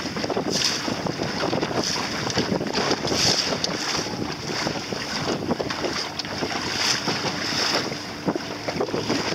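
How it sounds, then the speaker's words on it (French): Steady wind roars and buffets the microphone throughout, with water rushing and splashing under a moving Optimist sailing dinghy, no voices. "il y a un bon petit vent"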